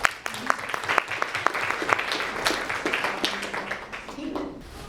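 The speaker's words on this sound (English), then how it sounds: "Give her a clap" An audience at a committee gathering applauds, a dense patter of many hands clapping steadily for about four seconds and then tapering off, with voices talking over it.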